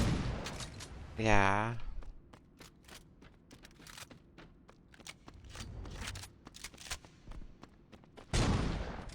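Shotgun blasts in the video game Saints Row, a few sharp bursts scattered between stretches of quiet clicks and brief talk, with one louder blast near the start and another near the end.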